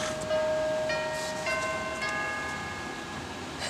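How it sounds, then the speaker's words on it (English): A shop door bell rings in a workshop, with sustained bell tones struck a few times and ringing out over a steady background hiss, fairly close and clear, no talk. "Somebody is ringing the bell for my shop."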